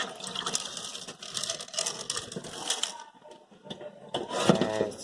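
Tap water is poured out of a betta fish aquarium during cleaning, splashing and gurgling in uneven bursts with a short lull before a final louder pour.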